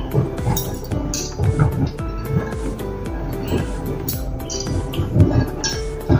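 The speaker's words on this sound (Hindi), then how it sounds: "पैन में हम तेल डालेंगे।" Oil going into a pan with a steel spoon clinking against the metal, repeated light taps and scrapes in an uneven rhythm, close and clear, with no speech.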